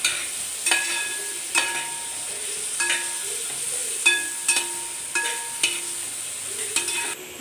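Tomatoes stirred into a sizzling chicken curry masala, a spoon scraping the pan in repeated strokes over a steady low frying hiss, close and moderately loud with no talking.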